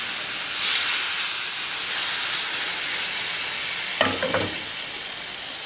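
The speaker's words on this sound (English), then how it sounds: "This pan is heated up, and I'm going to cook it almost like a crepe" Lentil batter cooks like a crepe in a hot pan, giving a continuous broad hiss and sizzle with a brief scrape or clatter near the end.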